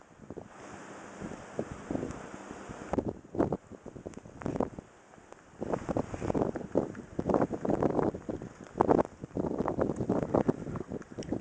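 Blizzard wind drives snow down a street in Wyoming, Michigan, gusting in irregular bursts that buffet the microphone, rising and falling without letup.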